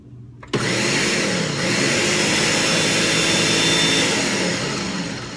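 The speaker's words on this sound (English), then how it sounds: "I'm gonna turn this on and blend this up real quick." A countertop blender whirs loudly and steadily as it purees a cilantro lime dip, switching on abruptly and holding a dense, high-pitched roar throughout with no talk.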